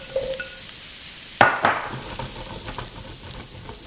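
Mushrooms for a chicken stir fry hit a hot pan with a sharp burst of sizzling that settles into a steady crackling fry, close and fairly loud, with a faint clink at the start.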